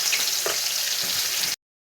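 Chopped onion and a bay leaf frying in hot oil for a mutton curry: a dense, steady, close sizzle with a faint stir, lasting about a second and a half before cutting off abruptly.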